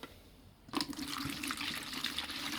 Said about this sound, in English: That's a nice splash.